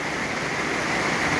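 Heavy rain pours down on a rice field, a loud, dense, continuous rushing hiss with no breaks and no voices.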